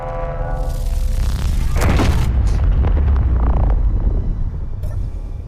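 A ship-mounted weapon in Space Engineers fires at a distant target ship: a heavy deep boom swells into a long rumbling roar with metallic creaks, loud and dense, with no talk.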